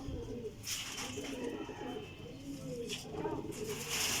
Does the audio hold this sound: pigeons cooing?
yes